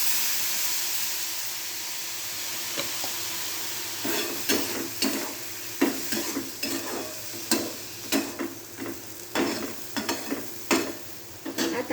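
Cowpea pods in a pan hiss and sizzle after a sprinkle of water, with a steady steamy crackle and repeated rhythmic scrapes of a spatula stirring them, growing louder toward the end.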